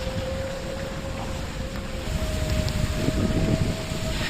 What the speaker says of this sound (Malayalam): വെള്ളം ഒരു പുഴ പോലെ ഒഴുകുന്നുണ്ട്